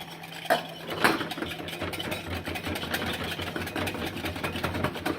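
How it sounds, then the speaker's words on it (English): Hollandaise sauce for eggs benedict, with white vinegar added, is whisked hard in a bowl, making a fast, steady metal clatter that sits close and continuous over a low background hum. "And I'm going to start whisking, fams. Whisking hard."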